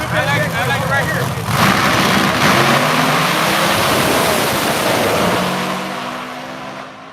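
Cars race side by side down a hood drag track, engines roaring loud and near under the excited chatter of onlookers, with a steady accelerating rush that slowly fades as they pull away.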